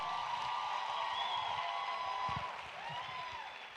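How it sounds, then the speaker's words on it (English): Audience applause for a performer named Lucia at a youth event, a steady wash of clapping from a crowd that fills the whole stretch and fades slightly toward the end. "Come on, a round of applause for Lucia."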